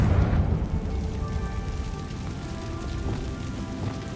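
A fiery blasting spell from Hogwarts Legacy opens with a booming burst, then decays into a long crackling, rain-like hiss of debris and embers.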